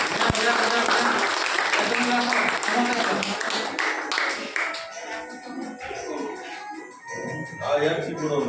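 Schoolchildren clapping along at a class-one admission ceremony, a dense burst of many small hands that is loud at first and then thins, with children's voices chattering and calling over and after it.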